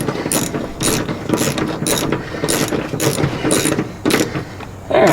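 A ratchet clicks in quick repeated bursts, loud and close, with no talk, as bolts on the shifter coupler of a rotten 1956 VW Beetle are snugged down.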